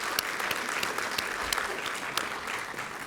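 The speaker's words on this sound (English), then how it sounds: "That's worth an applause," Dense, sustained applause from an audience at a superintendent's celebration for high-achieving ninth-grade scholars, many hands clapping evenly at moderate distance without speech.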